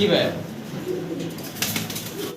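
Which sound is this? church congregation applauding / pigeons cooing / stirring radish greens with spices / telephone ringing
pigeons cooing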